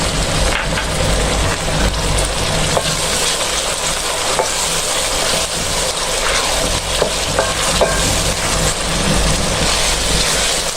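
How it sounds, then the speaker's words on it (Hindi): Onion frying with garlic ginger paste, a loud dense crackling sizzle with scraping stirs throughout, close and continuous without talk. "इसको हम अच्छा सा भूनते रहेंगे ताकि लहसुन की जो महक ख़त्म हो जाए इसमें से"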